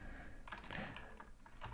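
Quiet typing on a computer keyboard, soft rapid key clicks running steadily for under two seconds with no voice.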